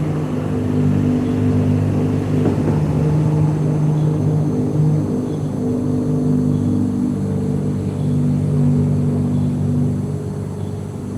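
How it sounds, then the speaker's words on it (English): A loud, steady engine rumble idles nearby, a low droning car noise that holds constant throughout with a faint whir on top. "One person's dropping off another person who has a noisy car."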